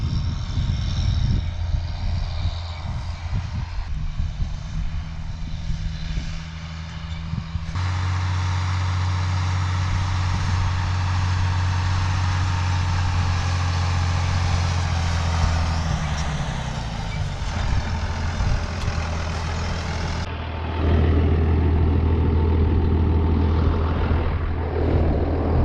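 A tractor engine runs steadily while seeding in a Western Australian paddock, a loud continuous low drone with tonal hum that shifts in pitch and load over the whole stretch, close and without talk.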